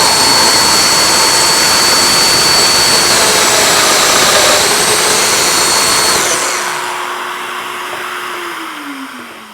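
A Festool Domino joiner cuts mortises in the ends of rails with a dust extractor attached, giving a loud, close whine that holds steady for about six seconds before winding down.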